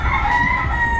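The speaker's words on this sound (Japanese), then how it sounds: "こういう鶏がいるところとか" A rooster crows in a long, loud, drawn-out call on a local street in Vietnam, close by and steady for about a second.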